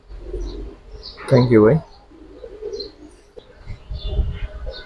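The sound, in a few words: pigeons cooing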